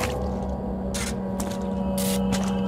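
Electrical hum and sparking near water in Resident Evil HD Remaster, a steady loud tonal hum with short bursts of hissing crackle.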